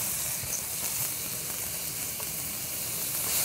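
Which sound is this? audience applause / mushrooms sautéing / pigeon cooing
mushrooms sautéing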